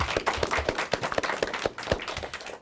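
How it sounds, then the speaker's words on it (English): Audience applause at the close of an elementary school derby match, a dense, even stream of clapping from a crowd that holds steady throughout. "I'd like to have a big round of applause for yourselves"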